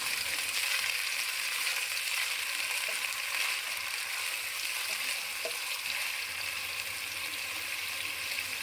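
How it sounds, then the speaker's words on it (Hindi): Chopped onions frying in lightly heated oil for Punjabi kadhi pakora, a steady, close, even sizzle that holds without a break from start to finish. "तेल को मैंने हल्का सा गर्म कर लिया, इसमें प्याज डालूंगी और हल्का सा फ्राई करूंगी"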